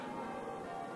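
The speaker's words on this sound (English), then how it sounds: "Oh! Church bells! It must be Christmas Day." Church bells ring steadily with a dense, sustained metallic resonance, loud and continuous, with no voices.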